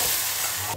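Mustard and nigella seeds frying in hot oil with onion, garlic and dried chilli, a brief steady close sizzle with fine crackling and no voices.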